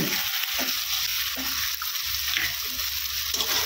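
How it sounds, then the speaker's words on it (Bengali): Eggs fry in masala with a dense, close sizzle, and a spatula scrapes and stirs the pan in a loose rhythm over the hiss; no voices are heard. "এবারে দিয়ে দিব আমি ডিম"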